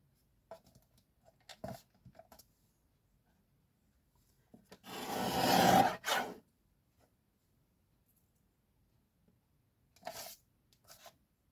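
A paper envelope is trimmed with a few quiet scrapes and snips, then one longer rasping cut, then a couple of faint short cuts after a pause, all close and soft in an otherwise silent room.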